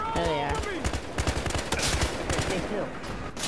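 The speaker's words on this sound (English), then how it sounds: "People are shooting, I don't like it." Rapid gunfire in the cops-and-robbers shooter Battlefield Hardline, with dense bursts of shots and repeated cracks over busy battlefield noise, while a voice talks over the shooting.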